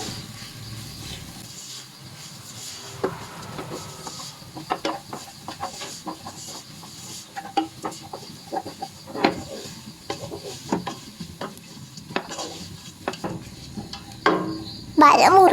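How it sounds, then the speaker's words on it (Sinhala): Mushroom pieces being stirred in a pan for a Sri Lankan tempered mushroom dish, with repeated scraping and clacking strokes of a spoon over a soft sizzle, close and fairly steady, with no talking. "දැන් මේ ටික ඔක්කොම මික්ස් කරගන්න ඕනේ."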